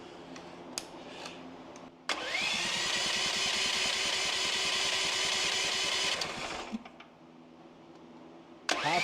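A small gasoline generator set to full choke is pulled over after a few clicks, and its engine roars loudly and steadily for about four seconds before dying back to quiet.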